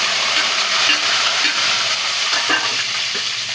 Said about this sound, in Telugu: ఇప్పుడు ఆవాలు జీలకర్ర వేసాం, ఎండుమిర్చి, ఉల్లిపాయ,